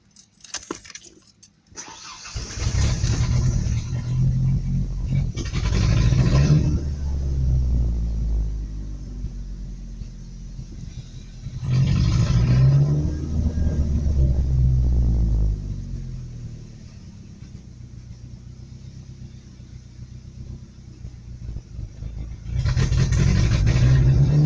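Truck engine struggles to start in repeated loud cranking bursts that catch briefly, rumble and fade, then crank again, heard up close with no talk.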